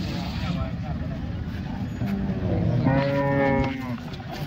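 A cow lows loudly at a crowded cattle market, one long drawn-out moo rising and falling near the end, over steady background chatter and distant vehicle noise.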